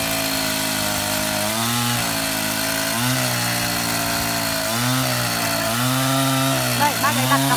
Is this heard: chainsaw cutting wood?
yes